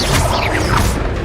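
A Levioso levitation spell fires in Hogwarts Legacy, a short loud whooshing crash with swirling magical sweeps during a fight.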